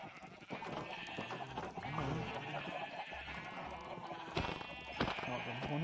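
Several sheep bleat in a game, overlapping bleats over busy background sound, with occasional sharp clicks and clatter.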